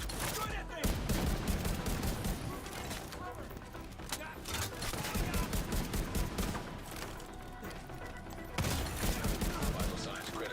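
Rifle gunfire in The Division 2 video game, rapid bursts of shots running nearly throughout under a dense game soundscape with music, with a voice speaking at points.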